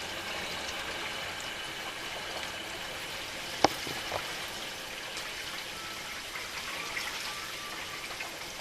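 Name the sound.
water filling a whole-house water filter sump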